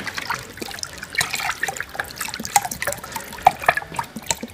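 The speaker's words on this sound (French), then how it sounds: "Et vous rajoutez 1 litre de jus d'orange." One litre of orange juice pours into a bowl of punch, giving a close, uneven splashing trickle with small drips and gurgles over a few seconds, no voices.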